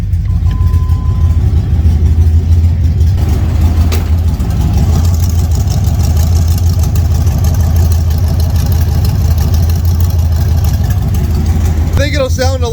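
An OBS Ford truck with an LS engine swap idles steadily outdoors without a finished exhaust, a constant low rumble holding throughout with a brief burst of higher noise near the end; people talk over it.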